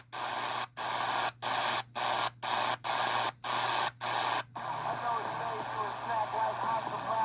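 AM radio station received on an XHDATA D-808 portable receiver, with a tone pulsing on and off in rapid, even bursts over a low steady hum, then settling into continuous noisy broadcast audio.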